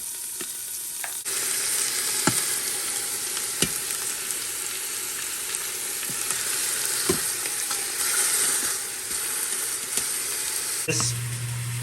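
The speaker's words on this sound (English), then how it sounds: "Let's go ahead and saute these." Meat sautés in an Instant Pot for birria, a loud, steady sizzle running throughout, broken by sharp clicks and scrapes of stirring and a brief louder burst near the end. No voices are heard.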